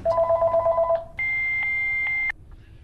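Telephone dialing tones: a rapid run of short keypad beeps, followed by a longer steady ringback tone, clear and fairly quiet.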